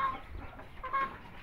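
Soft, brief clucking from chickens in a poultry pen holding Shamo, Aseel, Indio and Thai gamefowl breeds, faint and somewhat distant, lasting barely more than a second.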